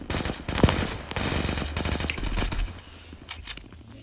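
Rapid bursts of automatic gunfire in the mobile shooter Zula, loud and close, with sharp cracks in quick succession early on and scattered shots later.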